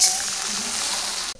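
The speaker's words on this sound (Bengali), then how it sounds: "আর আমি একটু পানি দিয়ে দিই" Water is poured into a pan of hot oil with sizzling shrimp paste in a Bengali village kitchen, giving a loud, steady hiss and spatter that runs for over a second before cutting off abruptly.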